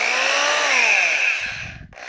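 An electric hammer drill whines loudly and steadily at high speed, its pitch sliding slightly, then winds down and stops with a brief clatter at the end.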